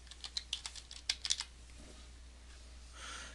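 About ten fast keystrokes tapped on a computer keyboard in a short crisp burst lasting just over a second, quiet and close, followed by near silence with faint room hiss.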